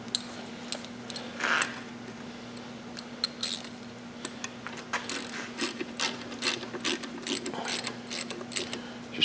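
Tools tightening bolts on a cast iron pump, heard as faint, close metallic clicks and ratcheting ticks scattered irregularly over a steady low hum, with no voices.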